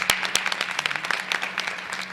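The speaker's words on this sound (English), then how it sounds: "Give our board a big round of applause." An audience at a school board of education meeting gives the board a round of applause: dense, steady clapping from many hands in an indoor hall, lasting throughout.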